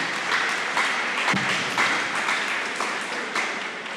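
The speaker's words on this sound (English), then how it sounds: "give yourself a round of applause" An audience claps steadily in a room at a neighborhood association launch event, a dense patter of many hands that holds for several seconds and tapers slightly.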